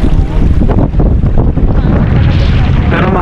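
Strong wind buffets the microphone at Los Vaqueros lake during trout fishing, a loud, continuous rumbling roar with gusty surges throughout.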